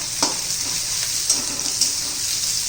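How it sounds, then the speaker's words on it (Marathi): Onion sautéing in a pan for a fenugreek leaf (methi) vegetable dish, a steady close sizzle with a few brief clatters of stirring, no talking. "कांदा चांगला परतून घ्यायचा आहे ट्रान्सपरंट होऊन द्यायचा आहे"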